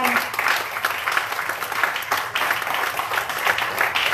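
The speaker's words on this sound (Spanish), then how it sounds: "Denle un aplauso al Señor, mis hermanos." Church congregation applauding together at a worship service, a steady dense wash of clapping that holds across the whole stretch with a faint voice under it.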